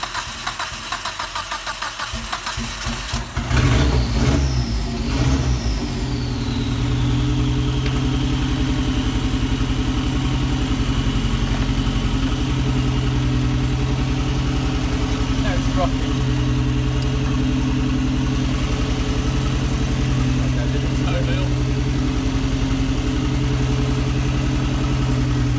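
A turbocharged MX5 engine fitted in a 1972 Toyota Hilux runs close by with a steady, rough low drone. A sharper burst near the start settles into an even idle.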